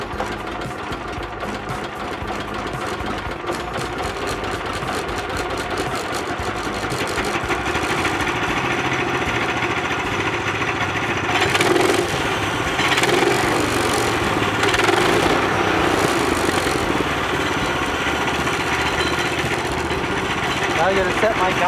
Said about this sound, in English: fire the engine up